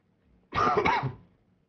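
A single close, brief cough, more of a throat-clearing rasp, stands alone against near silence.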